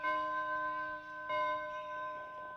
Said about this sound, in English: the joy and wonder of the city was a music of trumpets and ringing of bells